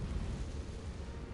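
The Confringo fire spell bursts in Hogwarts Legacy, a loud, close, rumbling explosion with a heavy low roar that fills the whole moment without pause.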